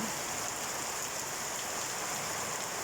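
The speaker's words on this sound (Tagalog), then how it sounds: "Daily lang ulan dito sa amin." Steady rain hisses evenly, a soft continuous patter with no voices or breaks.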